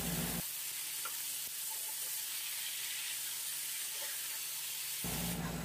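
Chicken breast sautés in a hot pan for a Filipino pancit bihon, giving a steady, loud sizzle and hiss that holds evenly, with no talk over it.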